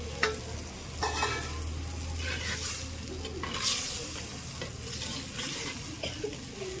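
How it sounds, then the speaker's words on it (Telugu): Onion and spice masala for egg biryani sizzles steadily in a clay pot over a wood-fired stove, with stirring scrapes rising now and then above the constant frying hiss. "ఒక టూ మినిట్స్ వరకు అయితే ఫ్రై అవ్వడం వన్ టు టూ మినిట్స్ వరకు అయితే ఫ్రై అవ్వాలి"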